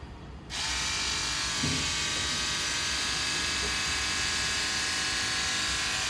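An electric water gun runs with a sudden start into a steady, even mechanical buzz and whir that holds loud and unbroken to the end.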